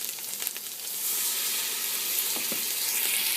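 Rice hits hot sofrito in a pan with a loud, close, steady sizzle and frying hiss that swells after the first second and holds throughout, with faint stirring scrapes.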